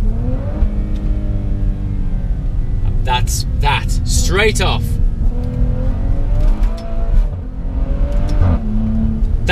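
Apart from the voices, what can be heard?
Maserati Levante SUV engine revving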